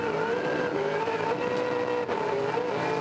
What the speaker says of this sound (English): The car on the 40km/h rev limiter makes an awful sound as they come down pit lane.